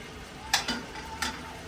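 Marinated food sears in a hot pan with a steady soft sizzle, broken by a few light clinks and stirring knocks.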